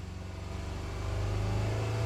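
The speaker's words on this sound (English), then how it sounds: "raise the RPM and see what happens" A Saturn Vue engine with a flashing check engine light revs to higher RPM, a steady close droning hum rising gradually in loudness.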